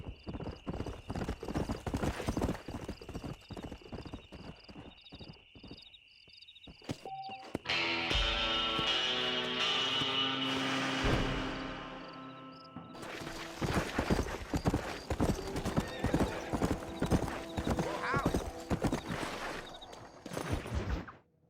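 Horse hooves clip-clop steadily at close range, with a horse whinnying partway through before the hoofbeats resume, in the video game Red Dead Redemption.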